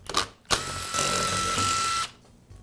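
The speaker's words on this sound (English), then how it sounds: "I'll remove the 4 screws that secure the rear housing to the motor" Screws are backed out of the rear housing of a Makita band saw, where it joins the motor housing. Two sharp clicks lead into a loud, steady mechanical whir lasting about a second, then it stops.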